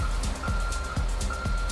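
In the GTA 5 video game, a truck's reversing alarm beeps at a regular pace over a low engine rumble, loud and close.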